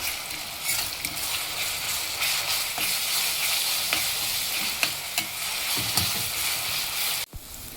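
Ginger garlic paste frying in a pan gives a loud, continuous close-up sizzle with frequent scraping strokes of a spatula, ending in a sharp knock of the utensil.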